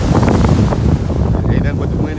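Steady wind buffets the microphone at Miami North Beach, a loud, continuous low roar with surf and a kite surfer riding a board offshore, gusting unevenly throughout.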